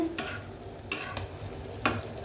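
Dried chepa shutki fish with potato and eggplant being sautéed and stirred in a pan: a few sharp scraping strokes of a spatula land at roughly even intervals over a soft, low sizzle.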